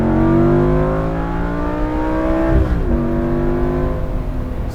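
A Lamborghini Gallardo Spyder engine revs hard toward the red line with a rising, near and loud howl, then drops sharply as the automatic transmission upshifts on its own, and the note climbs again.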